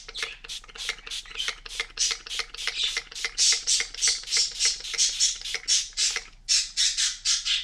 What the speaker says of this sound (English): Those birds, oh my goodness